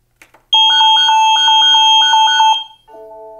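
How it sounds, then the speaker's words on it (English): A loud home security alarm (Nest Secure) blares close by with a pulsing, repeating electronic tone for about two seconds, then cuts to a softer lower chime. "But that's kind of what the alarm sounds like."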